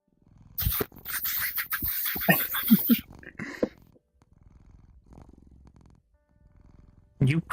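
A person in VRChat imitates a cat's purr with a rough, rattling voice, loud and close for a few seconds before fading into softer murmurs, then another short burst at the end.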